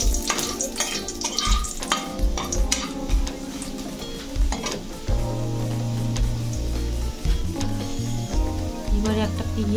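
Three small bay leaves and two dried red chillies fry in hot oil, a busy crackling sizzle with stirring scrapes and clinks throughout, under a continuous low background tone.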